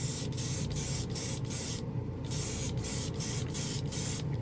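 An airbrush sprays Gaia Prism Blue Black lacquer over a gloss black spoon in a paint booth, a close steady hiss broken into quick rhythmic passes with short gaps, plus a booth fan hum underneath.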